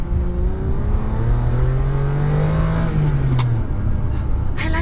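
A Ferrari 456GT engine accelerates with a deep, low roar, pitch rising then easing off, loud and close, steady throughout.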